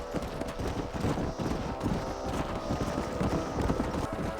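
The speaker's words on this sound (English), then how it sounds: "Stay with the horses." Horse hooves clip-clop steadily at a walking pace in the Western game Red Dead Redemption, mid-loud and continuous over a busy low rumble, with no talk audible.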